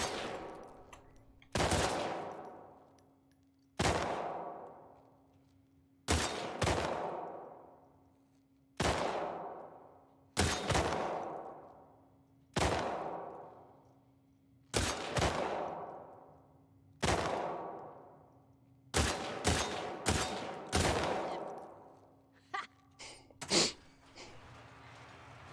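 Single gunshots in a shooting contest in The Last of Us 2, fired about every two seconds with some quick doubled shots, each followed by a long ringing decay over a steady background hum.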